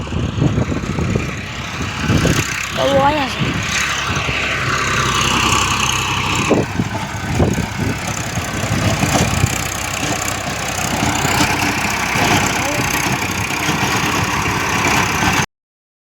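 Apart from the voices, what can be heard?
tractor engine running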